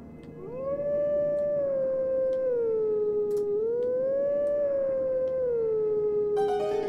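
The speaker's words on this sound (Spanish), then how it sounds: "Ya tenemos la cinemática del lobito cantando." Wolf howling in the video game Zelda Twilight Princess HD: a long, loud, sustained wavering howl with rising and falling pitch, heard alone without speech.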